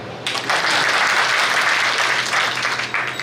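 An audience bursts into loud, sustained clapping at a community gathering, a dense wash of applause close by that lasts a few seconds.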